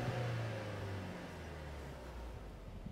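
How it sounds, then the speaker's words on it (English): Idle of a 2016 Mercedes-Benz C250 with the M274 2-litre turbocharged petrol engine, a steady low hum with a faint hissing whir on top, held at an even level, no talk. "Here's what the engine sounds like."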